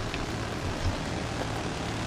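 An aircraft engine droning steadily in Battlefield 3 multiplayer on the Wake Island map, a constant moderate whine and rumble with no speech.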